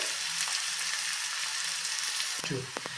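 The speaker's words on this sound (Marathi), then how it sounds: "कांदा छानपैकी परतून घेऊयात आपण" Onions sauté on a high flame for restaurant-style chilli paneer, a loud continuous sizzle throughout, joined near the end by a few brief spatula scrapes and knocks in the pan.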